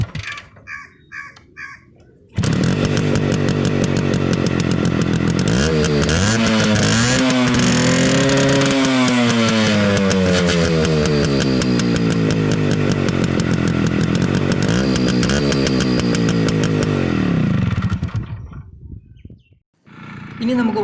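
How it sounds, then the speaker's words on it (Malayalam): A Suzuki Samurai motorcycle's exhaust blares loud and close after a short quiet start, settling into a rough idle and then revving up and down in several swells before cutting off near the end. "ഇനി നമുക്ക് വണ്ടിയുടെ എക്സോസ്റ്റിനോടൊന്ന് കേട്ട് നോക്കാം."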